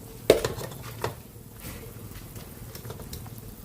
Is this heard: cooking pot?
yes